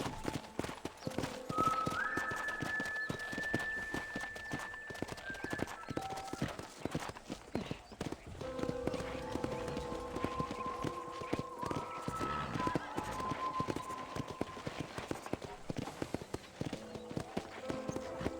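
Steady clip-clop of horse hooves walking at an even pace in the video game Red Dead Redemption, continuing throughout over a background of layered ambient tones and music.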